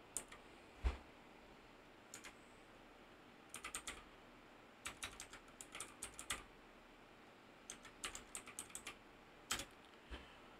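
Keys clatter on a computer keyboard in bursts of quick taps with short pauses, close and fairly quiet, while a server name is entered during Apache 2 setup on Debian 11 Linux.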